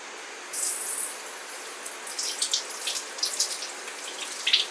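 Tap water runs steadily into a sink as okra is washed under it, with soft splashing and small clinks rising over the stream, no talking.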